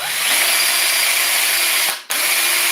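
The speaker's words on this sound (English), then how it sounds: "If we put this on, it'll be a flexible chainsaw." A battery-powered flexible chainsaw runs with a loud, steady motorized buzz, briefly cutting out for a split second before resuming at full strength.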